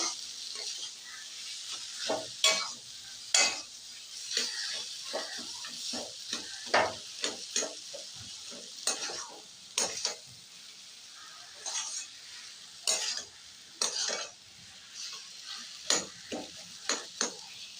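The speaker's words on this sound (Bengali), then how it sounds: "এইভাবে 5-7 মিনিট সিম আছে ভেজে নেবো ওলটা" Mashed elephant foot yam fries in a pan while a spatula stirs and scrapes it in repeated sharp strokes over a soft, steady sizzle, close and fairly loud.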